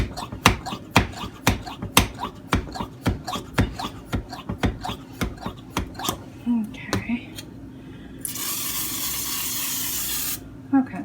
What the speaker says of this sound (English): We're gonna oil up the bread pan a little bit.